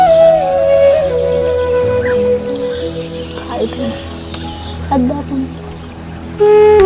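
Yellow fabric dye poured into liquid for recolouring clothes, a soft continuous trickle heard beneath a steady tonal background that partly masks it.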